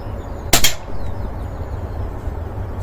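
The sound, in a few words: Umarex Iconix air pistol shooting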